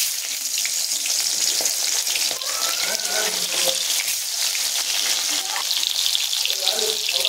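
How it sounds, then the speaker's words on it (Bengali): Hilsa fish pieces sizzling in hot oil in a pan, a loud continuous crackling hiss, close by, with occasional faint kitchen clatter. "এরপর আমি সব মাছগুলো দিয়ে এখানে হালকা করে ভেজে নেব।"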